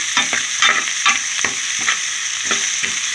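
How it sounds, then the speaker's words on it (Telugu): Sliced onions with salt and turmeric fry in hot oil in a pan, a steady close sizzle broken by repeated stirring scrapes about every half second; no voice. "ఇందులో సాల్ట్ వేసుకున్నాను కొంచెం వేగ ఉల్లిపాయలు అవి వేగుతాయి అన్నమాట అలాగే పసుపు కూడా వేసేస్తున్నాను కొంచెం బాగా వేగిస్తాను"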